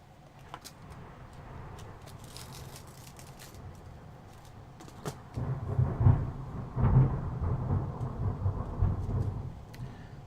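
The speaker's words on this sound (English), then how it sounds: "if you guys just heard that thunder" Thunder rumbles through a thunderstorm, starting as a low background roll and then swelling into a louder, closer series of deep crashes during the second half, with no talk over it.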